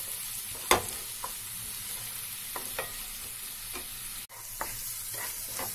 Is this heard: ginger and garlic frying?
yes